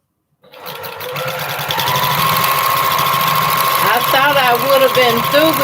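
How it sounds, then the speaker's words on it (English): A sewing machine stitches steadily on a postage-stamp themed quilt project, giving a rapid, even mechanical whir that starts abruptly and keeps running close by, while someone talks over it toward the end. "I'm gonna sew till I can't sew no more."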